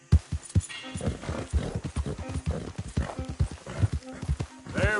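Horse hooves clip-clop at a steady trotting rhythm in the Red Dead video game, close and clear, with a brief whinny near the end and a voice speaking briefly.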